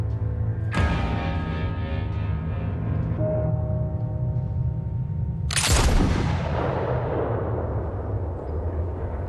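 Two heavy gunshot-like blasts, several seconds apart, each ringing out loud and close before fading into a long rumbling tail.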